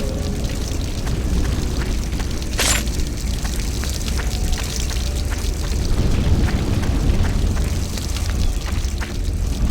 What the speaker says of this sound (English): I think the fire is coming closer.